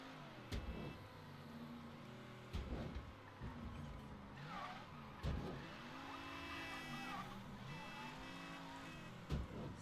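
A car in Mafia III driving and sliding through turns, engine revs swelling and falling with tire squeal during drifts and a few sharp thuds, moderately loud and continuous throughout.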